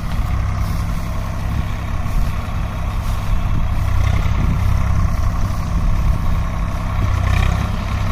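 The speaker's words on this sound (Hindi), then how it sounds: "तो देखो भाई इस प्रकार का चल रहा ट्रैक्टर।" A Swaraj 855 tractor fitted with a Shrub Master cutter runs steadily close by, its heavy low diesel rumble constant and loud throughout with no voices.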